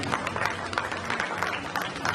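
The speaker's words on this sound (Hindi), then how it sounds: "जोरदार तालियां तस्लीम के लिए।" An audience at a state-level community talent award ceremony claps in a brief burst of steady, dense applause filling the hall.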